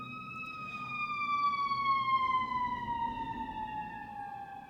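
A wailing siren sweeps slowly downward in pitch over a low engine rumble, moderately near, like an ambulance passing.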